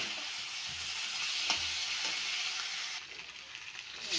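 Onion, ginger and garlic paste frying in a pan for a fish curry, a steady broadband sizzle with a few soft stirring scrapes and clinks, close and continuous throughout.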